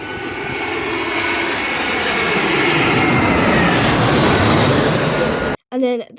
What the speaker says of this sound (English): the planes actually came in over our head